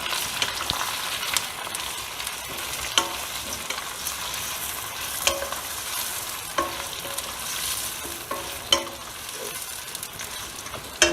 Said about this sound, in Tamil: நல்லா பொரிஞ்சிட்டும் ஓமம்